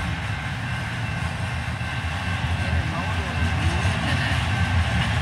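A CN intermodal freight train at about 60 miles an hour rumbles past a railroad crossing nearby in a continuous low roar that swells gradually louder toward the end.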